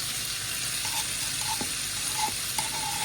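Brussels sprouts and potatoes sizzling as they brown in a pan, a continuous loud frying hiss with a few faint clinks of stirring, no talking.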